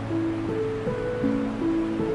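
Sea surf washes against the rocky shore at Dancing Ledge, a steady close rush of breaking water with no pauses, accompanied by faint sustained tones underneath.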